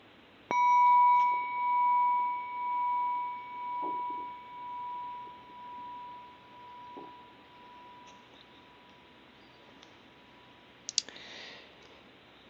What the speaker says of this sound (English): So I'll strike my little bell just to begin.